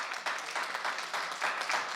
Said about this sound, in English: If we can just give her a round of applause.